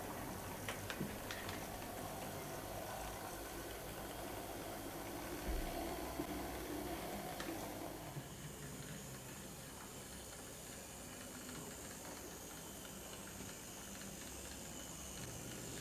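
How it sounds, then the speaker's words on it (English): An OO scale model of a South Eastern and Chatham P class steam locomotive draws coaches into sidings, producing a quiet, steady hiss with light ticking and faint mechanical running. "We now hand the train of coaches over to the P class so they can be drawn into the sidings ready for the next"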